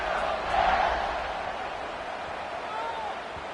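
A stadium crowd in a college football video game keeps up a sustained cheer and roar with a brief swell near the start, and faint calls rise above the steady noise.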